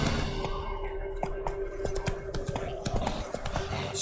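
Hooves clip-clop steadily from a horse in The Witcher 3 video game, a regular close trotting beat running through the whole stretch under a faint background hum.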